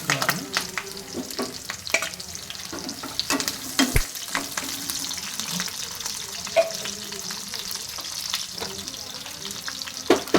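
Onions, garlic and curry leaves frying in hot oil for Rayalaseema-style okra fry, a crackling sizzle broken by frequent spatula scrapes and knocks against the pan, no speech.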